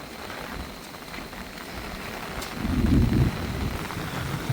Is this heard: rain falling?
yes